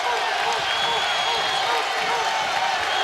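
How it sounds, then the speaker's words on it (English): A college basketball arena crowd at an Alabama versus Mississippi State game roars and cheers steadily, a dense wash of noise under a commentator talking. "Crowd back in it"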